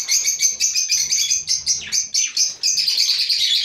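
Caged budgerigars, just fed, chirp and chatter continuously in loud, close, overlapping high twitters with no voices present.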